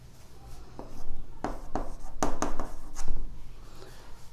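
Chalk or marker strokes on a board during a Class 10 maths lesson, several short scratchy bursts in an irregular rhythm, close and moderately loud, with faint room noise between strokes.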